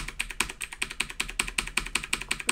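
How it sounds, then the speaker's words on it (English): Right arrow key on a computer keyboard tapped repeatedly, about a dozen crisp, evenly spaced clicks in a quick steady rhythm, close and fairly quiet, with no talking. "So if I tap on my right arrow,"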